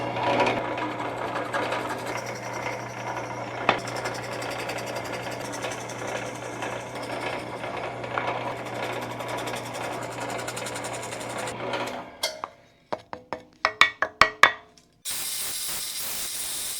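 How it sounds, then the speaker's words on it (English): A steady mechanical whir runs for about twelve seconds, then gives way to several short bursts of a power drill boring holes in wood and a final sustained hiss. "we're just going to drill each hole where those lines intersect"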